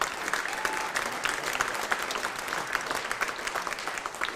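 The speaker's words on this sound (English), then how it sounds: "Give them a round of applause too" Steady round of applause from an audience at a middle school jazz concert, dense clapping throughout with a faint voice near the start.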